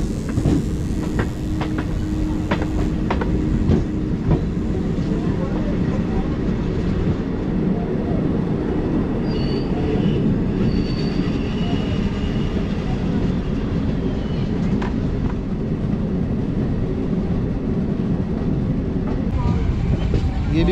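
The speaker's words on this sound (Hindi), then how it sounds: "45 किलोमीटर का टोटल सफ़र तय करती है ये ट्रेन डेरा बाबा नानक से वेरका और अमृतसर के लिए।" A passenger train runs on the 45-kilometre line from Dera Baba Nanak through Verka to Amritsar: a steady, continuous rumble and rattle from inside the carriage, with faint intermittent clicks over the whole stretch.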